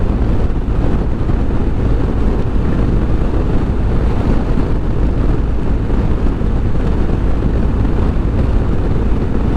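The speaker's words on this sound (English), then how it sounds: "I'm on a motorcycle." Heavy wind buffets the microphone in a steady, loud roar, with a low engine drone underneath, while riding a BMW 1250 GS Rallye motorcycle at speed.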